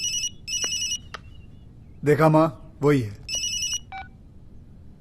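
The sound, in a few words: telephone ringing in film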